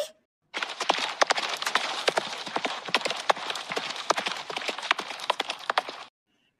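Horse hooves clip-clop in a quick, steady rhythm of sharp knocks, close and fairly loud, then stop abruptly.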